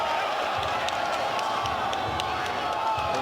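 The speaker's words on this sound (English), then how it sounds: "The crowd not liking the call." A basketball arena crowd at a game between Formosa Dreamers and Macau Black Bears murmurs and jeers at a referee's call, a continuous loud roar with scattered sharp shouts and claps.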